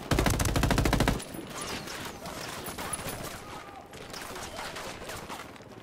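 Dense automatic gunfire in the tactical shooter Ghost Recon Wildlands, a loud rapid burst up front followed by scattered shots and combat noise, with voices talking over it.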